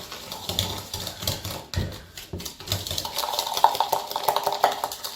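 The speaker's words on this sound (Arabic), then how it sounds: "عليهم السكر وغادي نخلط." Sugar being mixed into egg yolks in a small bowl for brioche, heard as uneven scraping and clinking of a utensil against the bowl, close up and fairly quiet, with no talking.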